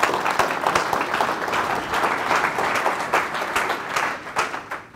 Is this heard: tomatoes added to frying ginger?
no